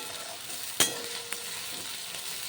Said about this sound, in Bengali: এর সঙ্গে আমি যে লঙ্কার স্টাফ করে রেখেছি সেইগুলো কিন্তু এর মধ্যে দিয়ে ভেজে নেব একসঙ্গেই, তাহলে ভাজা হয়ে যাবে।